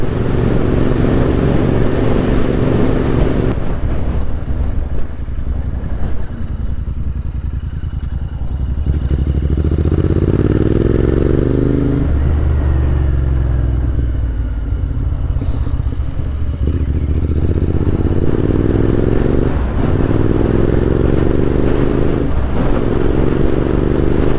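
A Royal Enfield Interceptor 650 rides along with a loud, steady engine drone and heavy wind rumble, the revs rising and falling through gear changes over about twenty-four seconds.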